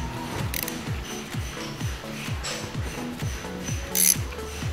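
A socket wrench ratchets steadily, loosening the 8 mm brake pad pin on a Kawasaki Versys X motorcycle. The clicks come close and rhythmic in a long even series.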